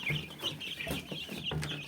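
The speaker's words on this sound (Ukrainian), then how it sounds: "Курчата домашні домінанти. Мішана порода тут. 55 курчат." Many 24-day-old mixed-breed Dominant chickens, about 55, clucking and peeping together, a busy overlapping chatter of soft clucks and high cheeps close by, steady throughout.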